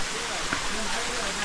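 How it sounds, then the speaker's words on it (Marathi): Waterfalls along a misty Konkan hillside path near an iron footbridge roar as a steady, dense wash of falling water, fairly loud and continuous with no pauses. "आणि मस्त धबधबे आहेत"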